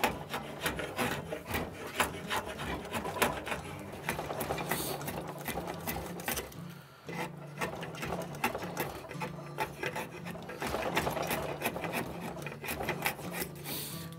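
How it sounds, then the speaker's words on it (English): A draw knife shaves wood from an axe handle for a double-bit axe rehandle. Quiet, rhythmic rasping strokes repeat steadily and close by, with a brief pause partway through. "First, I'm gonna remove some of the material with the draw knife just to get down to an octagonal shape"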